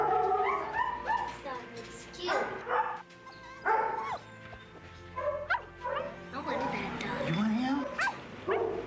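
A rescued puppy barks, yips and whimpers in a series of short, close, high-pitched calls and whines with pauses between them, over a quiet background.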